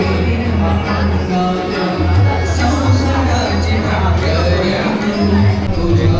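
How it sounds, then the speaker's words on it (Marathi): A large crowd gathers outside a temple on a busy Thursday, making a loud, steady babble of many voices close by, with louder individual voices and some music in the mix. "क्राऊड बघा बाहेर किती आहे"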